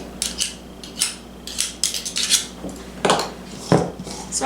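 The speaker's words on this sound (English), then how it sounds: "I'm going to scrape some of the powdered sugar off the sides of the bowl and just stir them all together" A spatula scrapes powdered sugar off the sides of a mixing bowl holding cream cheese for an Oreo cookie dessert, making repeated scratchy rasps and light clinks in an irregular rhythm, close and fairly loud.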